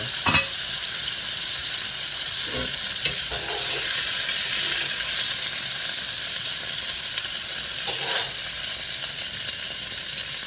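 Steak fries in a greasy pan, giving a loud, steady close-up sizzle and hiss throughout, with a few sharper spatters and utensil clicks and no talking.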